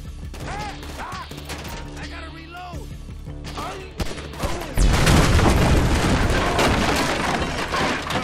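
Gunfire crackles in GTA V, with scattered shots under faint talk, then a gas can explodes in a loud, deep boom. Heavy rumbling and debris follow and last to the end.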